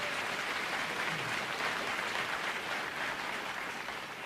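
Audience at a congressional candidate forum applauds after a candidate's opening statement, a steady wash of many hands clapping that sounds moderately distant and sustained, tapering slightly at the close.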